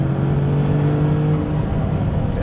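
Maserati MC20 Cielo engine revving hard and loud, a steady strong drone that holds rising tones before easing off, with the turbo audible as it winds out on a canyon road.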